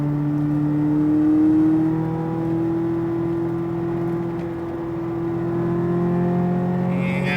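A Corvette Z06 accelerating hard around the SpeedVegas race track, its engine holding a loud, steady drone that climbs gently in pitch, recorded close from inside the car, with no talking.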